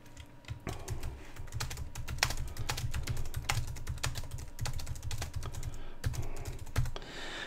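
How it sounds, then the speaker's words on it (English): Steady typing on a computer keyboard while entering cell data in Microsoft Excel 2013, a close, continuous patter of quick key clicks with no talking. "we'll type some more information"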